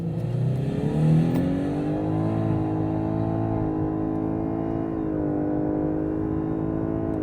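A Lexus LS500h hybrid launches hard in Sports Plus mode, its engine droning with a rising, whiny tone that climbs steadily and drops back at each gear change, loud and close with no talking.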